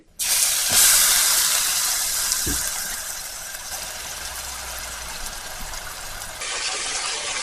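Chopped onion frying in hot oil spiced with red chillies for a spinach dal tadka, giving a loud, steady hiss that starts abruptly, with a couple of brief pops early on, then settles slightly quieter throughout.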